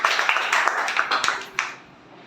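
Applause from a crowd at a school Teacher's Day event welcoming a Class 7 student, a burst of dense clapping with a few sharper taps that fades out near the end.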